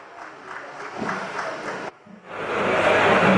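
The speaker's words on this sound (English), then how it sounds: "A round of applause to Jubril," Applause rises from a conference crowd at an African tech event as a speaker goes on stage, moderate clapping that drops briefly, then swells louder and fuller.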